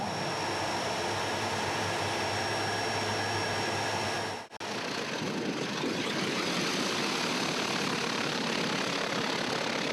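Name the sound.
aircraft engine going to full power on takeoff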